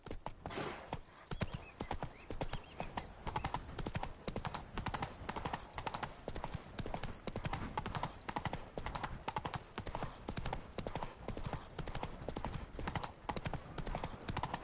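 Roach the horse gallops in The Witcher 3, steady rapid hoofbeats pounding close and loud without a break, with faint voices now and then beneath the drumming.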